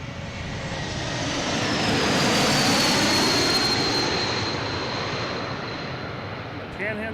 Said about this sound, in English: And we got a JetBlue coming in from